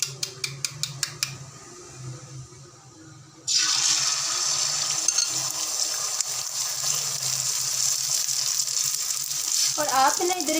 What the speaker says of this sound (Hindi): अब इसके बाद हम अंडा को फ्राई कर लेते हैं।